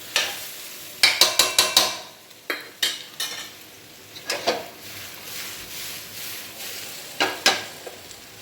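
Patra, colocasia leaf rolls, shallow-frying in a little oil in an iron pan: a steady close sizzle broken by repeated sharp spatula scrapes and clinks against the metal, with no talking.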